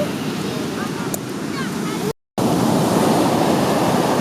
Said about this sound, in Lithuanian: pažiūrėkit, kokios didelės bangos